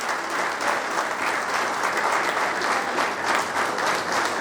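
An audience welcomes a guest at a school alumni gathering with strong, continuous applause, a thick even wash of many hands clapping for several seconds without talk.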